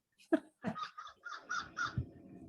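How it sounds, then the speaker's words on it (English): A crow caws outside in a short series of harsh, nasal calls, fairly faint and distant, with a few scattered thumps around them and no talking. "does somebody have a crow? Yeah, there's always crows out here"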